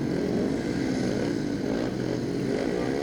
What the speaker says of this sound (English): The bikes are revving and away they go.